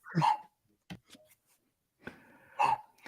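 A dog barks in short, loud bursts close by, a sharp bark, a couple of smaller yelps, a pause, then another strong bark, outdoors during filming.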